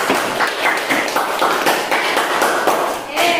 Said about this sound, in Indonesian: Kita semangat dulu, kasih tepuk tangan ya.